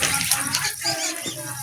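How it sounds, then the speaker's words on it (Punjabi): Water is poured onto masala of garlic, green chillies, ginger, tomatoes and onion cooking in a pan, giving a short, close sizzling splash. "ਇਹ ਥੋੜਾ ਜਿਹਾ ਪਾਣੀ ਲਾਉਣ ਲੱਗੇ ਮਸਾਲੇ ਨੂੰ"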